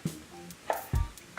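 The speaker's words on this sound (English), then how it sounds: "I'm cutting it into strips that are about 1/4 inch thick" A knife slices a peeled mango into quarter-inch strips on a cutting board, making three close, soft thuds spaced apart with quiet between them.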